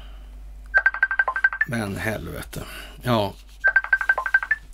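A telephone rings in two bursts of rapid warbling electronic pulses. A man's short spoken exclamation falls in the quiet gap between the bursts.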